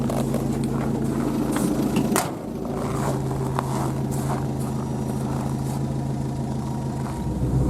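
A car creeping along a snow-covered road in first or second gear, a steady low engine drone close by with soft crunching and brief rattles, no talk.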